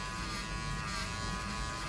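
Electric hair clipper buzzes steadily and close up during a barbershop head shave, a continuous dense hum with no pauses and no talk over it.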